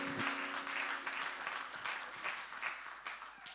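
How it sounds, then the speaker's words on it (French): A church congregation applauding together, a sustained wash of clapping from many hands that rises and falls across a few seconds, moderately distant and filling the room. "Acclame bien le Seigneur"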